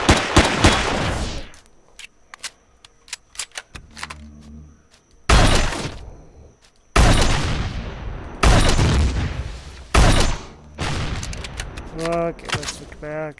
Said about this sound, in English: Pistol is amazing with these.